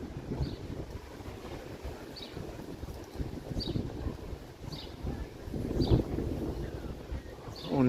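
Wind gusting along a city street in Toronto, a steady low rushing roar with broadband buffeting that swells toward the end, with no one talking.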